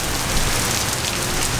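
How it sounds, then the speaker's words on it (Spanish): Steady rain falls in Playa del Carmen, a dense, even hiss of drops striking surfaces close by, continuous and fairly loud with no voices. "Y está lloviendo."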